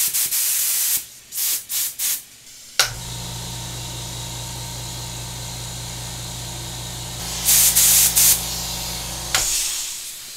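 A large compressed-air spray gun hooked to a compressor for cleaning a computer, with a few short bursts and then one long, steady, loud hiss over a droning motor hum, cut briefly by sharper blasts before it stops.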